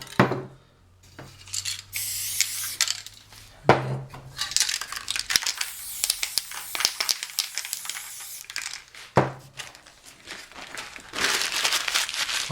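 Paper being crumpled and uncrumpled for spray painting, with bursts of crisp crinkling and rustling separated by short pauses, close and fairly loud.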